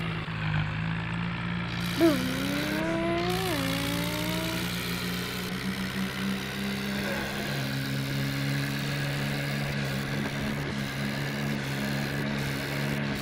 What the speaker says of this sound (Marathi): असा आहे ट्रॅक्टर.